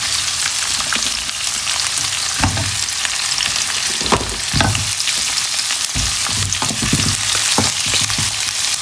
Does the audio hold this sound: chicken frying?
yes